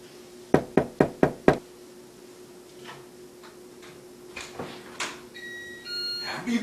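Five sharp, evenly spaced knocks on a door, loud and close, followed by quieter household movement and a faint tone.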